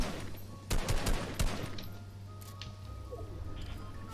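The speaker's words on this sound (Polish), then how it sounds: "Oj, strzela." Gunfire in the video game Fortnite comes as a short burst of several quick, loud shots early on, followed by fainter scattered pops under game ambience and brief low talk.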